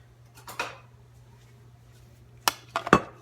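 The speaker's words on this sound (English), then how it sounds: "I'm just gonna grab a spoon" A spoon is picked up in a home kitchen, giving a soft clatter and then a few sharp metallic clinks of cutlery close by, separated by near silence.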